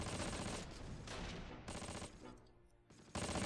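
Close Combat battle on the Ravenstein map, with steady bursts of machine-gun and rifle fire rising and falling in loud, dense volleys and short gaps, no talking over it.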